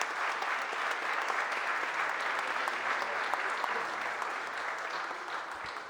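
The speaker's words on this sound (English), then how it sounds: "Please give the members a huge round of applause." Audience at a mayor's press conference applauding, a dense, steady clapping that fills the room throughout without letting up.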